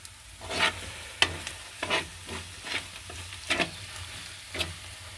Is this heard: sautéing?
yes